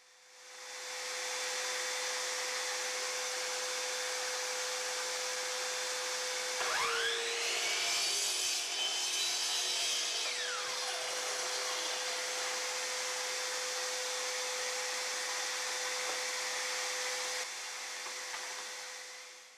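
A miter saw set to 45 degrees cuts through baseboard for a return, its motor whining steadily with a brief rising bite as the blade passes through the wood midway, close and fairly loud.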